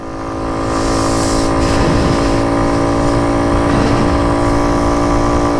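Honda CT90 Trail 90 motorcycle engine running steadily while riding in the rain, a loud close droning hum with a slight rise in revs and no talking.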